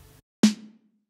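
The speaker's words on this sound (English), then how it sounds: "The snare sounds a bit muffled but has more punch" A single punchy hip-hop snare drum hit with EQ applied, a sharp close crack with a short low-mid ring decaying quickly into silence, preceded by a faint tail of sound.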